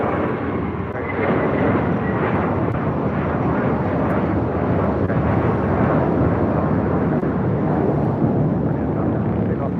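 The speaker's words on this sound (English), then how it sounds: "That American A321 taking off" An American Airlines A321 takes off at LAX, its engines a loud, continuous roar that swells early and then holds steady and broad without a break.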